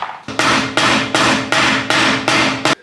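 Six loud, evenly spaced hammer blows ring out close by as diff bushes are driven out of a Toyota Chaser JZX100, each metallic strike decaying briefly before the next.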